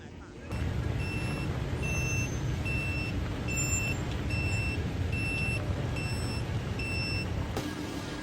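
Steady reversing beeps pulse at an even rhythm over a continuous heavy truck engine drone as the truck backs in on a muddy construction site in a crane video game.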